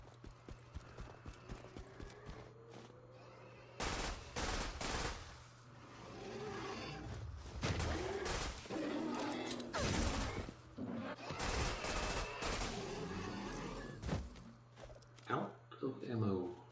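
Rapid bursts of gunfire and impact clatter from the Borderlands 2 shooter game, dense volleys that start and stop across the stretch over a steady low game hum, with someone talking in places.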